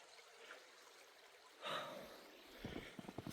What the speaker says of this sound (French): Ce petit bruit d'eau qui coule